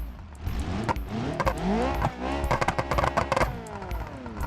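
An Ibishu Covet in a driving game revs hard through its loud aftermarket exhaust with nitrous fitted, engine pitch sweeping up and down repeatedly with sharp popping backfires crackling between pulls, close and dominant.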